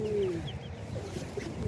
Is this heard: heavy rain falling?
no